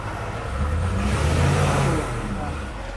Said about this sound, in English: Give the Humvee some gas.